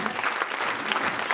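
Loud, dense applause from a crowd at a celebration event in Mughalsarai, many hands clapping close and full for about a second without pause.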